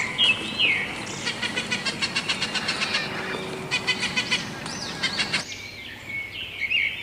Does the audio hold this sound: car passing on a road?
no